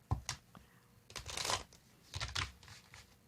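Tarot cards are shuffled close to the listener in three brief riffling bursts separated by short quiet gaps.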